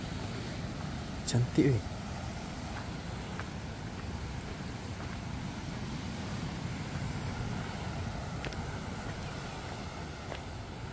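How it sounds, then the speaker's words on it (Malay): Strong waves at Teluk Bidara beach in Dungun, a steady low surf roar with wind noise throughout, with a short burst of nearby voices talking early on. "Ombak dia kuat sangat."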